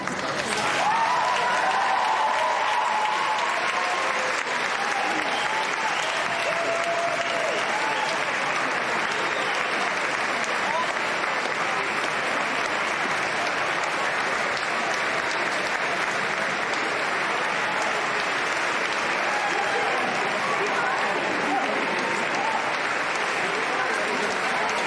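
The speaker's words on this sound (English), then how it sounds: "Why don't you rise and give them a round of applause?" Sustained, dense applause from a large graduation ceremony audience honouring the graduates' supporters, a steady wash of many hands clapping at even loudness for about twenty-five seconds, with faint voices mixed in.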